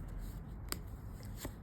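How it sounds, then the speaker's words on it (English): Tarot cards, minor arcana only, shuffled by hand in a fortune-telling session: soft papery riffles and a few sharper flicks, quiet and close, with no talking. "So we shuffle the cards and we take out 5 cards."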